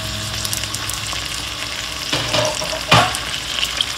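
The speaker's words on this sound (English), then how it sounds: "And the sizzling has begun" Green onions and pimentos sizzle in a hot pan for a coconut curry shrimp dish, a steady close frying hiss with a couple of louder bursts as ingredients drop in and get moved around.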